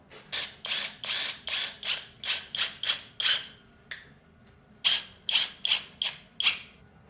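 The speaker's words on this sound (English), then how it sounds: "you can just screw a clip into there, and these all clip on" Clips are screwed in and fastened on a homemade spray paint booth frame, producing a rhythmic series of crisp ratcheting bursts, about a dozen in two runs separated by a short pause.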